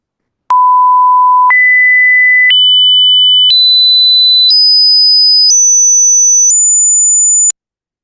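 A pure sine tone generated at a 16,000 Hz sampling rate climbs in seven even steps, each about a second long, from a mid pitch to a very high one, loud and steady with nothing else present.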